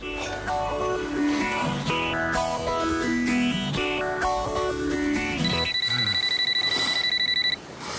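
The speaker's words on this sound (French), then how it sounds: "c'est ton réveil" An alarm clock rings in a domestic setting, a steady high electronic beeping tone sustained for a couple of seconds near the end, following a busy stretch of music and voices.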